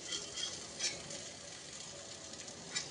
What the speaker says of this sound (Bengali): এখন যেটা হচ্ছে সেটা হচ্ছে কুমড়ো ভাজা